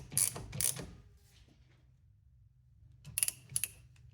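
Ratchet clicks while a battery terminal is tightened on a 2002 Ford Ranger pickup, two short bursts of close, crisp metallic ratcheting near the start and two more after a quiet pause.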